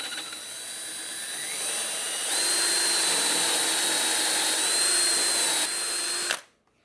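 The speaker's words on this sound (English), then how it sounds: "we do our best to drill nice and straight" A power drill whines continuously for about six seconds, its pitch climbing as it bores into wood, then cuts off abruptly.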